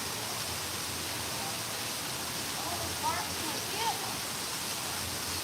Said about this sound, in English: There's waterfall and me on the bridge.